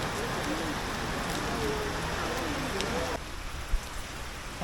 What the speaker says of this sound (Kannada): ಜಬರ್ದಸ್ತ್ ಹಣಿಲತ್ತತ್ ಮಳೆ.